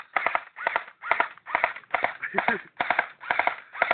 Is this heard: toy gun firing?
yes